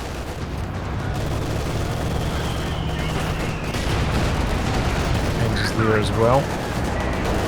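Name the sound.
Katyusha rocket and gunfire in Company of Heroes 2 video game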